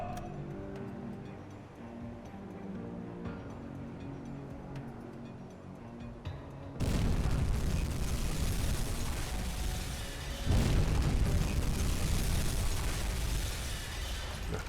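Two torpedo hits on a C3 cargo ship in the submarine game UBOAT: a quiet ambient stretch breaks into a sudden loud, broad explosion roar, and a second heavy blast follows a few seconds later, both rumbling on at length.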